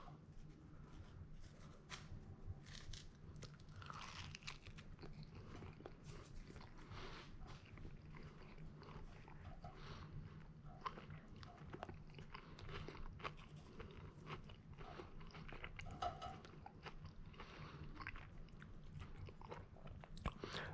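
Someone bites and chews a slice of tuna and corn pizza, with steady close-up crunching and mouth sounds running through the whole stretch over a faint background hum.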